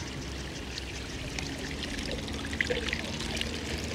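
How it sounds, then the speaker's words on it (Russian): Water trickles and pours steadily into a decorative water feature at a house in Central Florida, a continuous splashing flow heard at moderate distance with no talk over it. "Вода туда попадает, ага."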